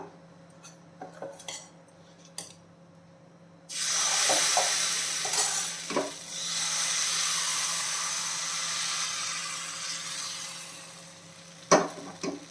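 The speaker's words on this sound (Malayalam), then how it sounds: "ഇനിയിപ്പോൾ നമുക്കിത് മാവ് ഒഴിച്ചു കൊടുക്കാം" Millet batter for paalappam goes into a hot appam pan: a few metallic clinks, then a sudden loud hiss that settles into a steady sizzle, with another sharp clank near the end.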